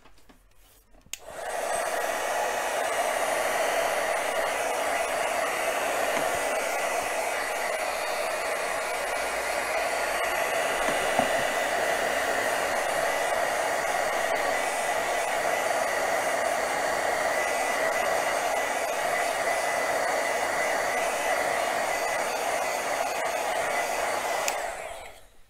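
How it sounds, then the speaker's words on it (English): A heat tool blows steadily close by for over twenty seconds, drying paint with a continuous loud whooshing roar that starts and stops abruptly. "I think I'm going to give this a little heat dry."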